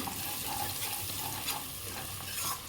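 Onion pieces fry for chicken curry in a pan with a steady, close sizzle and faint stirring scrapes, with no talking.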